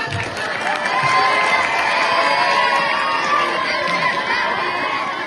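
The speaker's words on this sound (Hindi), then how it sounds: "बॉयज के लिए भी जोरदार तालियां हो जानी चाहिए।" A large crowd at a Women's Day event claps and cheers for the boys, a dense, loud, sustained wash of applause, whoops and shouting that fills the whole stretch.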